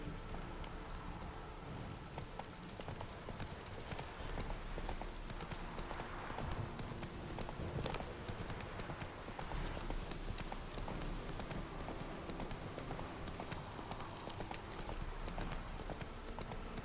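Roach, a horse in The Witcher 3 video game, galloping with a rapid continuous clatter of hooves under steady rain hiss, fairly loud and unbroken throughout.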